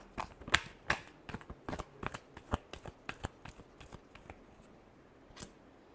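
Tarot cards are shuffled quietly and up close, giving a quick run of sharp, crisp riffling snaps spread over several seconds.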